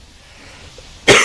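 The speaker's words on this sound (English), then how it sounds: "I actually have like smoker's cough or something at this point" After near silence, a single sharp, loud cough bursts out close to the microphone right at the end.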